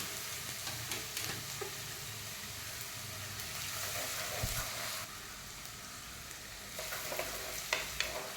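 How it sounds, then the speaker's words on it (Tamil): Finely chopped ginger and green chillies sauté in hot oil with a soft, continuous sizzle and occasional stirring scrapes, fairly quiet throughout. "இஞ்சி, பச்சை மிளகாய் ரெண்டுமே போட்டுட்டு நல்லா வதக்கணும். இஞ்சி நல்லா எண்ணெயில் பொரிஞ்சிடணும்"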